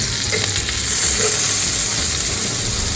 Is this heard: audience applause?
no